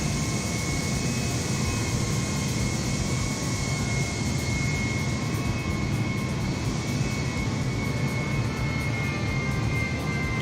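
A simulated aircraft taxis on a runway in Microsoft Flight Simulator 2020, a continuous, even engine roar with a high whine and a low rumble, steady and unbroken throughout.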